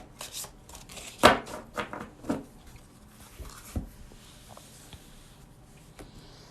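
A deck of cards being shuffled by hand during a quiet pause, giving a few soft riffling and tapping bursts with a sharper snap early on, close and fairly faint, with no talking.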